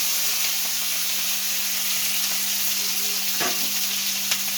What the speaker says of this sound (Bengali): এই এটাকে এখন আমি তেলের উপরে ছেড়ে দেবো।